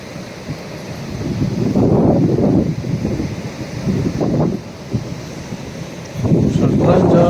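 Wind gusting across an open riverside heritage park, a steady broadband rush swelling and easing in loud blasts, close and buffeting on the microphone.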